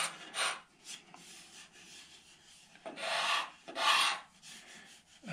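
Edge tool peeling shavings from a guitar neck where walnut and maple meet, giving several close scraping, rasping strokes, with two louder, longer cuts near the end between quieter rubbing passes.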